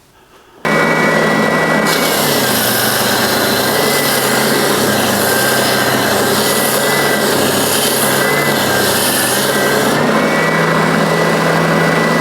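A power sander grinds steadily on wood with no dust extraction attached, a loud continuous whir that rises in pitch after a couple of seconds and holds for about eight seconds before easing back.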